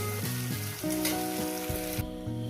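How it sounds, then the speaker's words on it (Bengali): Young jackfruit frying in a pan with salt sizzles steadily beneath prominent sustained tonal sounds, and the hiss drops away abruptly near the end. "এটাকে আমি দু মিনিট ভেজে নেব"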